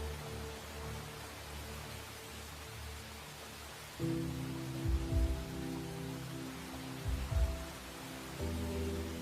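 Rain falls steadily in a dramatised film scene, a soft continuous hiss under low droning tones and a few deeper thuds partway through.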